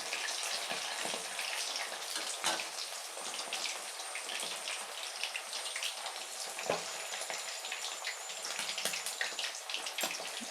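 Quail pieces for kaadai 65 deep frying in hot oil, a dense, continuous crackling sizzle with scattered sharper pops, steady and close throughout with no voices.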